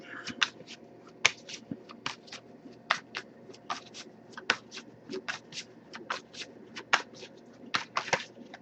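A tarot card deck being shuffled by hand, close and quiet, with a steady run of crisp riffling flicks and slaps repeating irregularly through the whole stretch, no talking.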